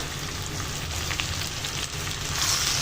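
Cubed onions fry with capsicum in hot oil, a steady, close crackling sizzle that runs throughout without pause.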